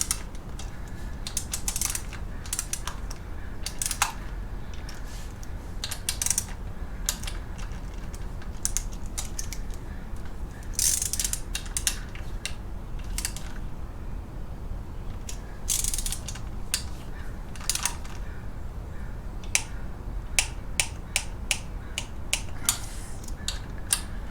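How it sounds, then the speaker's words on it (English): A torque wrench set to 106 tightens the oil pan cover bolts on an LS engine, giving a long run of sharp ratcheting clicks in irregular bursts, close and fairly steady, with no talking. "torque wrench is set to 106. We're just going to walk these guys down."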